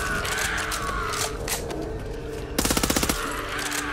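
Rapid gunfire from a fast-reloading weapon in the zombie shooter Back 4 Blood, with game sounds and mechanical clatter before a crisp burst of about eight evenly spaced shots rings out near and loud.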